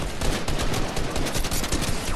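Dense, rapid automatic gunfire crackles continuously in a shooter video game, sustained bursts spraying at the player without pause, loud and close throughout.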